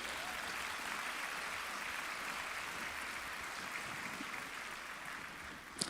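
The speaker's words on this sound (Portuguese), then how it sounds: "Dê um aplauso para Jesus." A church congregation claps in a steady, continuous wash of applause, fairly soft and even for six seconds, with one sharper knock just before the end.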